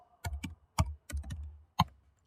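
Keys tapped on a computer keyboard in a few quick bursts, separate clicks landing close and fairly quiet with short pauses between them.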